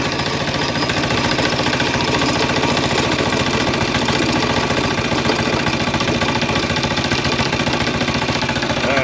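Small DIY 48 volt DC diesel generator engine idling close by, a loud, steady rapid knocking chug with a constant rhythm throughout and no talk.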